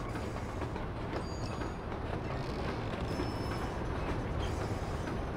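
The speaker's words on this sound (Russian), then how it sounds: "Толкать вагонетку сзади." A mine cart pushed along rails in Red Dead Redemption makes a continuous rolling rumble with steady clickety-clack from the wheels, loud and close, with no talk.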